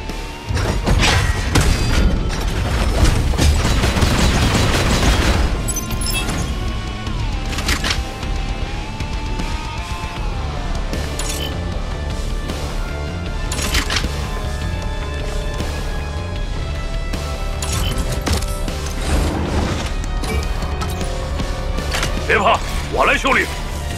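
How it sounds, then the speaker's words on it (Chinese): Rocket bombardment explosions in the sci-fi video game Iron Saga, with loud booms and thuds at the start, then dense layered game noise and mechanical sounds under continuous talk. "小心，火箭轰炸又要来了。"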